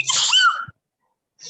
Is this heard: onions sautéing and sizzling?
no